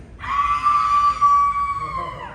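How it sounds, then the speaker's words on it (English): A woman lets out one sustained, high-pitched horror-film scream, like a shower-scene victim, loud and close, holding for about two seconds before trailing off. "How would you scream?"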